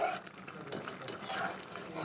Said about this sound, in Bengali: দিয়ে এখন ভালো করে নেড়ে নিচ্ছি